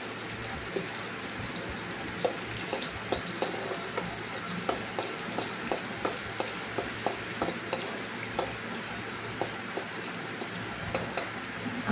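Chicken curry stirred in a pan with chopped onions, steady frying sizzle with regular spoon scrapes and taps against the pan, close and continuous.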